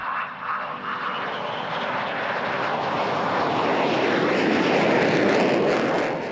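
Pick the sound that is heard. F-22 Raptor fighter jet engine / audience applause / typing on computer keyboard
F-22 Raptor fighter jet engine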